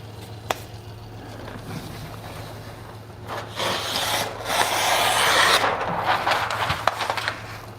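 A Shun kitchen knife is sharpened with its bevel matched, and the blade makes scraping, rasping strokes. They start sparse and faint, then build into a louder run of continuous rubbing passes in the middle before tapering into scattered strokes.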